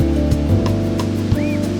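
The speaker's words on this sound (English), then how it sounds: "What I'm going to do is I'm just going to strain it." Asparagus broth strained through a sieve after simmering with asparagus ends: a steady, close pouring and splashing wash of liquid, continuous for about two seconds with a few brief clinks.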